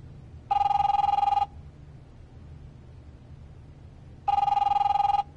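Two long electronic telephone rings from the video game The Wolf Among Us, each about a second of steady tone, separated by a pause over a faint background hum.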